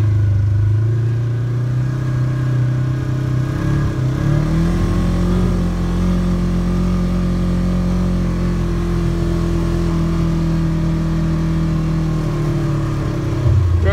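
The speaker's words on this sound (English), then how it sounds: "I'm in a four-wheel drive side-by-side, and I'm having issues here." A four-wheel drive side-by-side (RZR) driving through a snow storm, its engine a loud, steady close drone with a shift in pitch partway through, no talking.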